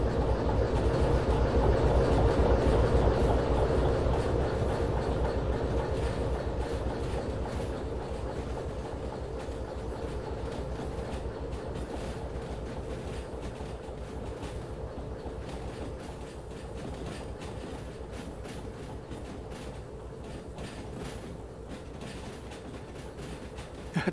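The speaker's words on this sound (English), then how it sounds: "It's a long train." Long train rolling past a crossing in the Derail Valley railway game, a steady rumbling clatter of wagons with rhythmic wheel clicks, loudest at the start and slowly fading over more than twenty seconds.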